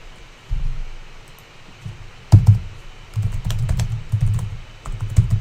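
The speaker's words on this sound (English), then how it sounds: "Let me just type in the word stop." Keys tapped on a computer keyboard in quick irregular bursts, close and clear against a quiet background, with a few sharper clacks standing out.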